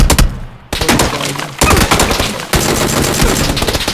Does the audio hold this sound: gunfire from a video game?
yes